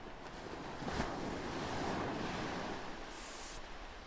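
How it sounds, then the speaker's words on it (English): Ocean waves wash against the seaside in a continuous, moderately loud surf roar, with one fuller swell breaking early and wind noise across the microphone, no voices. "The rhythmical sound of the sea is echoing by my side."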